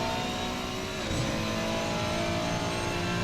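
Race car engine in Assetto Corsa Competizione (a 296 on the Nordschleife) revving hard and steady, with a brief dip and shift around a gear change before pulling again, loud and close with no talking.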